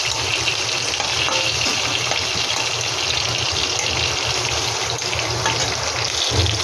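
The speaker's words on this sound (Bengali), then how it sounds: "এদিকে দেখুন, পেঁয়াজটা আমার এক সাইডে এরকম ভাজা হচ্ছে।" Onion frying in a pan over a high gas flame gives a steady, dense sizzle and hiss that runs unbroken and fairly close for the whole stretch, with no voices.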